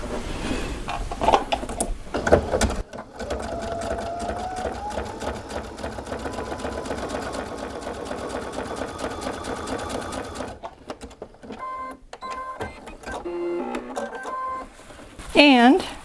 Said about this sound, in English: I'm going to sew along this edge and just zigzag right over that edge